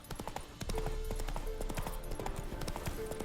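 Horse hooves clip-clop in The Witcher 3: Wild Hunt as the mount trots at a steady, even rhythm, close and clear over low game ambience for the whole stretch.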